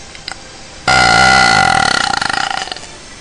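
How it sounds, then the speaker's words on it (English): A long, loud belch from a girl who has just finished eating, rising abruptly and holding steady before breaking into a rattling, pulsing tail; a brief faint sound precedes it. "I'm trying to do some loud belches"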